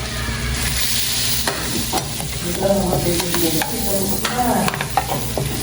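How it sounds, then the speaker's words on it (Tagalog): Spicy pork adobo with butter is stirred in a hot pan, giving a dense steady sizzle with spatula scrapes and clinks close up. "So, pag nalagyan na natin ng butter, ay halu-haluin natin ito."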